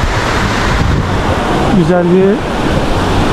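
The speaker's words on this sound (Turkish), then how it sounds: "Böyle nehir akıyor." A river runs near the Honolulu waterfall at Tingo María, Peru, giving a loud, steady rushing wash of water with wind buffeting the microphone and a brief voice briefly audible above it.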